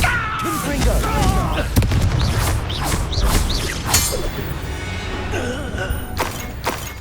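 A Confringo fire spell blast goes off in Hogwarts Legacy, part of a dense, booming stretch of game combat with repeated explosive bursts and crashes, loud throughout alongside spoken voices.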